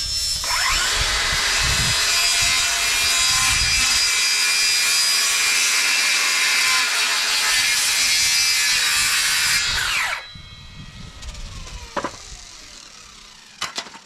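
Wooden edges being smoothed by a power sander or similar tool, a steady loud rasping drone running for about ten seconds before cutting off, followed by quieter workshop rustles and a few light knocks.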